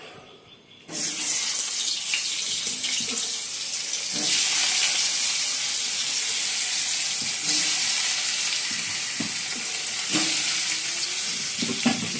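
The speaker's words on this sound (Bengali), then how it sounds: "এবার আলুগুলো ভেজে নেবো।" Lightly steamed potatoes frying in a pan with a little oil, a loud close sizzle starting suddenly after a quiet moment and hissing steadily with occasional stirring bursts.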